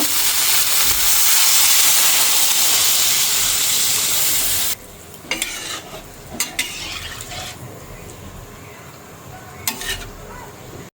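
Fish curry sauce with cauliflower sautéing in a pot, a loud steady sizzle and steam hiss at first that drops off abruptly, followed by quieter bubbling and several sharp knocks and scrapes of a spoon against the pot.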